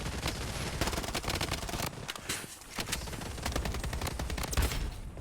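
Rapid gunfire from the BloodStrike shooter game rattles almost nonstop, with dense bursts of sharp cracks, a short lull near the middle, then more shots.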